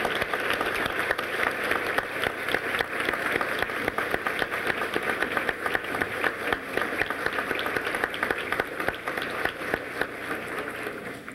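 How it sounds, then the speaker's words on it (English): Guests at a Med Week awards event in a hotel ballroom applaud the honorees, continuous dense clapping from a large crowd sustained evenly for over ten seconds. "Now let's applaud for all of the honorees."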